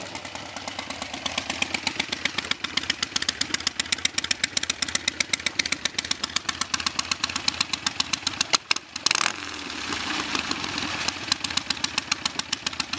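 A 1973 Harley-Davidson XLH Sportster with an ironhead engine runs with a rapid, lumpy, pulsing beat, close and steady, briefly cutting out near the middle before picking back up.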